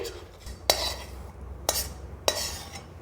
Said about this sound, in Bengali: ম্যাগিটা এবার আমি একটা পাত্রে ঢেলে নিচ্ছি